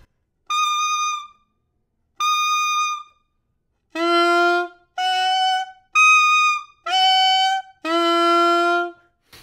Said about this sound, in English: there is one more overtone that you can blow on the neck and the mouthpiece